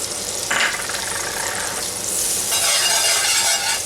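Butter sizzles in a pan with pork chop drippings, a close crackling fry that swells as it melts, with scraping stirs and no talk.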